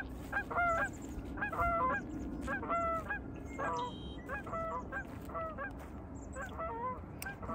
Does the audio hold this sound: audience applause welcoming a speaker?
no